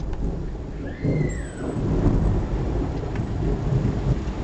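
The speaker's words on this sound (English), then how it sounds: "It's raining outside." Steady rain falls outdoors, a broad, soft hiss heard from fairly close, with low rumbling swells like distant thunder and a faint high whistle early on.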